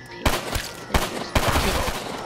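Submachine gun fire from Call of Duty: Black Ops 3 comes as three loud, close bursts of rapid shots with brief gaps between them and no talk over them.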